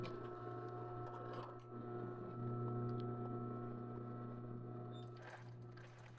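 A sewing machine stitching a plus-size body shaper garment, running as a steady close whirring hum that briefly speeds up in the middle and stops near the end, with no voices.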